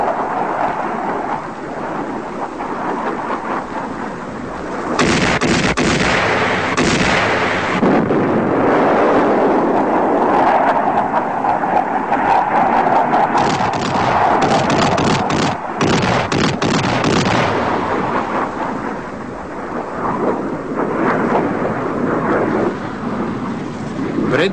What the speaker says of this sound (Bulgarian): Фронтовите бомбардировачи от съветската армия Су-24 нанасят мощни бомбови удари по противника